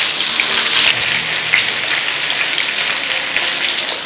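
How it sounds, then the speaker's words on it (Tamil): Quail frying in hot oil gives a loud, continuous, close-up hissing sizzle with a dense crackle throughout and no pauses or talking. "நமக்கு வந்து காடை ஃப்ரை ரெடி ஆயிடுச்சு. இப்போ எண்ணெயிலேருந்து சுட சுட எடுத்து பிளேட் பண்ண போகிறோம்."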